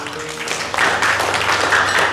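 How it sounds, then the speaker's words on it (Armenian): Restaurant guests at a birthday and wedding-anniversary celebration break into applause that swells after a quieter start and holds steady as a dense, close patter of many hands in a lively room. "բայց ծափեր տվեք"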